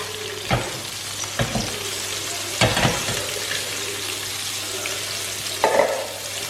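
A chicken burger patty, just flipped, fries in a pan with a steady close sizzle, punctuated by a few sharp clinks and scrapes of a utensil against the pan.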